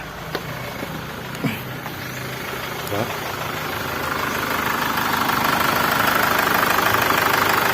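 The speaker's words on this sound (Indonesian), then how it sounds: "Oke, full pump yang di tangki sudah bisa nyala. Start engine. Nyala enak." A Chevrolet Captiva diesel engine is running: a steady, close mechanical idle with diesel clatter that gradually grows louder, with a few brief clicks and knocks early on.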